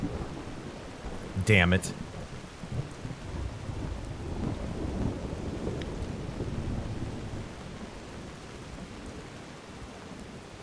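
Thunder rumbles and rain falls steadily in a wintry storm within the Skyrim video game, a continuous wash of rain with low rolling thunder, while a man mutters briefly over it.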